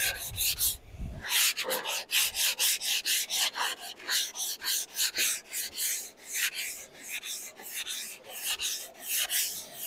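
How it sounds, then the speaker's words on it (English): Rhythmic back-and-forth sanding strokes rasp against a live-edge wooden serving board, close and steady, each pass swelling and fading in a regular pattern. "As you're sanding it, you get to a point"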